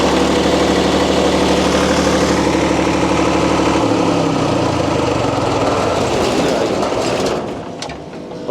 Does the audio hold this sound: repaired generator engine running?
yes